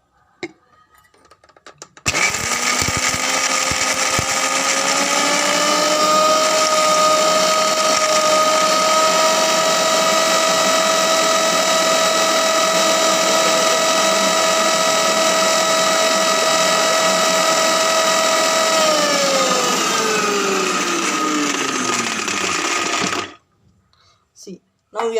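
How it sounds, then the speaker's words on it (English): Electric mixer grinder whirring loudly and steadily for about twenty seconds while blending coconut chutney, its motor pitch rising as it spins up, holding constant, then winding down before stopping. "So let me on the mixer."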